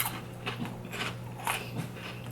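Close crunching bites into a crisp Japanese biscuit, several sharp crackly snaps spaced irregularly over a steady low hum.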